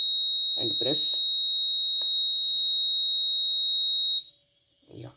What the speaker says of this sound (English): Alarm continuously on.